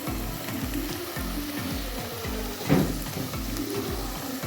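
Onions frying in a pan for crab curry give a steady, close sizzle with a rhythmic pulsing beneath it, and one sharper scrape or stir partway through.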